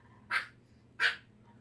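A puppy barks at its own reflection on a screen, giving two short, moderately loud barks spaced about half a second apart, with no talking.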